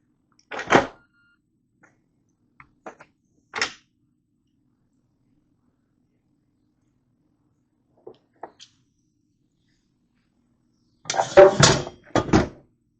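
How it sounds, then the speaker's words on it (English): Sparse clunks and clicks as the lid of a Ninja Foodi pressure cooker is unlatched and lifted, a few isolated knocks separated by silence, ending in a louder cluster of rattling thumps. "it says to go ahead and carefully remove the lid"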